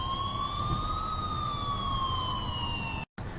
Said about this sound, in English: That's until I finally heard sirens in the distance.